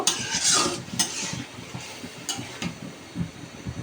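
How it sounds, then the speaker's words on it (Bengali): Abadi fish curry being stirred in a pan, with a spoon scraping and clinking against the metal a few times over a soft background sizzle, close and fairly loud at first, then quieter. "মাছটা একটু নেড়ে চেড়ে দেব।"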